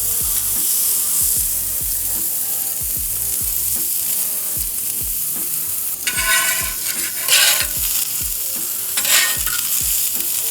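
Onions frying in oil on hot cooking stones, sizzling steadily while a utensil pushes them around with repeated scraping strokes and a few louder bursts of crackle, close by with no voices.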